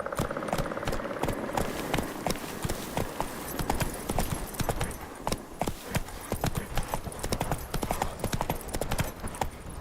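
Roach the horse trots along in The Witcher 3, hooves clip-clopping in a brisk, steady rhythm close by, with occasional soft snorts.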